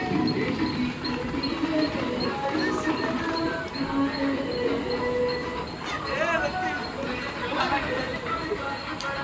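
A crowded Mumbai local train rattles along with a continuous clatter of wheels and carriages and occasional squeals, while passengers chatter in the background.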